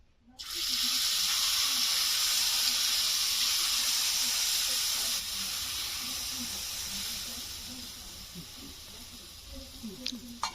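Besan poli batter poured into a hot oiled pan, starting with a sudden loud, steady hiss of sizzling close by that slowly fades toward the end, with a voice faintly underneath.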